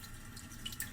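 Rain ambience from a Hyundai Tucson's built-in car sound system, a faint, even patter of drips and trickling water lasting under a second.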